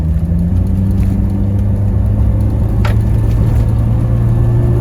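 A 1994 Land Rover Discovery 300Tdi diesel accelerating around a corner, a loud steady engine drone and road rumble heard from inside the cabin without letup.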